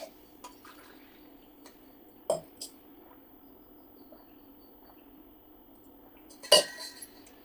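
A spoon stirs a drink of lukewarm water in a glass, giving a few sparse, sharp clinks against the glass. The clinks are quiet and close, with near-silence between them.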